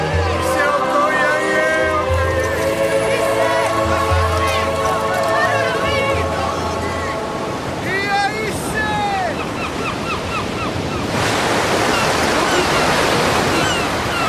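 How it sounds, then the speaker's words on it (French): Large ocean waves crash and surge against a shore, a steady roaring wash with wind, mixed with music and other sounds over most of the stretch, the surf growing louder and broader toward the end. "Ils sont fascinés par ces vagues immenses, par ce son qui fait trembler leur corps."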